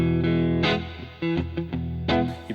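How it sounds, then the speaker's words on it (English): Electric guitar through an upgraded Jet JS300 amp on a dirty clean tone with reverb, a few ringing chords and picked notes, close and moderately loud, each decaying before the next strum. "when you roll the volume up, got some reverb on as well. You've got like dirty clean sound"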